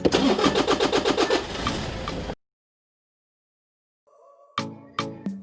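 A car engine is cranked by its starter motor with a fast rhythmic chugging and then stops, followed by silence and then a couple of sharp clicks and a brief whirr from the starter, loud and close.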